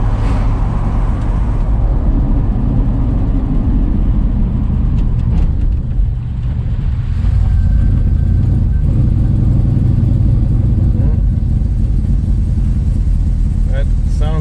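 A 1969 Dodge Dart engine with a leaking header gasket idles loud and close with a heavy low rumble and a steady ticking putter, while voices talk over it.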